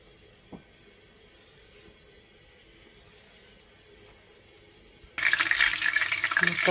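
Chebureki fry in a pan of hot oil. After several seconds of near quiet, a loud, steady sizzle and crackle suddenly starts close by and continues.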